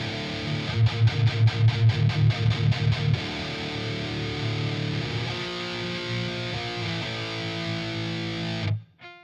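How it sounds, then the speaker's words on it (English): Heavily distorted electric guitar through a modern high-gain amp preset on a V-Amp 2 plays fast chugging palm-muted chords, then sustained ringing chords that cut off abruptly, loud and up close. "It's the modern high gain amplifier,"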